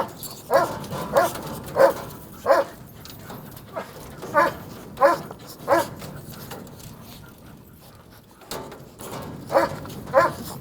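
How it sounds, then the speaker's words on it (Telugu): Puppies of a rare fox cross-breed dog whimper and let out short yips and barks in a resort animal enclosure, the calls coming in bursts with quieter gaps, fairly close. "దీని పప్పీస్ ఇవన్నమాట పక్కన ఉన్నాయి"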